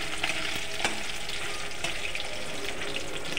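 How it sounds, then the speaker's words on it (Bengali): Chital fish pieces, boiled and rubbed with turmeric and salt, frying in a wok: a steady, close sizzle with a few sharp pops and spatters, no voices. "দেখো আমার মাছটি ভাজা ভাজা হয়ে গেছে।"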